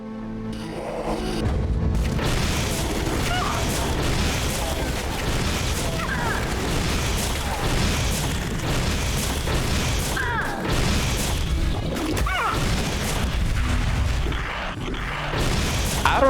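Repeated heavy booms from a rocket launcher in the first-person shooter Supplice, each blast followed by crashing explosions, spaced out over a continuous game soundtrack with a voice talking over it.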